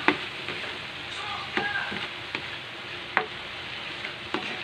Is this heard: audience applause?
no